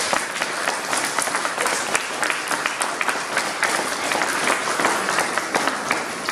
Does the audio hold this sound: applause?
yes